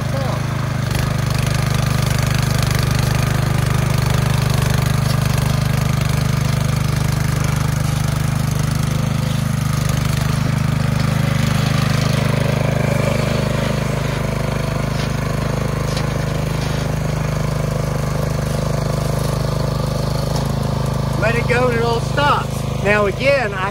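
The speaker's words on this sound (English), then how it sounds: "Just pull this up, and the tine starts turning," A Troy-Bilt Bronco garden tiller runs with its tines turning, a loud steady engine drone that holds for over twenty seconds, and a voice speaks briefly over it near the end.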